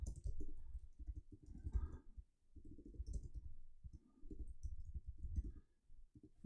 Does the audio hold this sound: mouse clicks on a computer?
yes